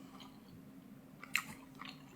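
Crunchy fried chicken tender from a Publix deli, batter-coated, being bitten and chewed close up, with a quiet crisp crunch near the middle and softer chewing after, no talking.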